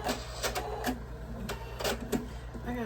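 A sewing machine runs on fabric in short mechanical bursts of whirring stitches, fairly quiet and close, with a low steady hum underneath and a few faint human sounds between bursts.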